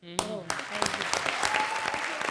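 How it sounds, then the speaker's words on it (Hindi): A studio audience at a comedy show breaks into applause after a voice and a short tonal sting, the clapping rising quickly into a steady, moderately loud patter of many hands. "जोरदार तालियां भारती, किकू और सिद्धार्थ के लिए."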